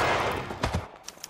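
Gunfire in the L.A. Noire crime game, a dense rattle of shots that fades out, followed by a couple of faint isolated pops near the end.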